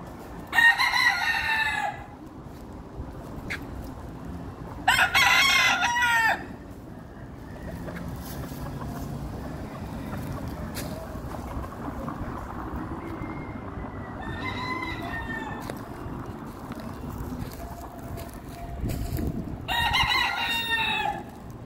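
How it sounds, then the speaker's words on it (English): Roosters crow loudly in repeated bursts, with chickens clucking nearby, as wild fowl roam the streets of Ybor City against a steady background of street traffic. "These chickens just roam the streets."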